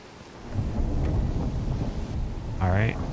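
Thunderstorm in the survival video game Icarus, with a continuous heavy rumble of rain and thunder throughout and a louder crack or voice-like swell near the end.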